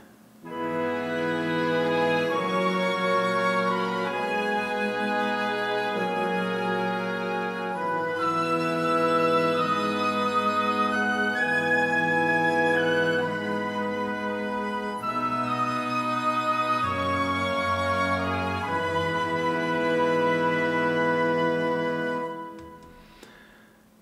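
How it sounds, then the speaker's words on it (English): A full Spitfire Symphonic Woodwinds section, including bass clarinet, plays a sustained legato chord passage together in Cubase, dense layered tones changing chords every few seconds, loud and alone, fading out at the end. "And now all together, the woodwinds on its own sound like this."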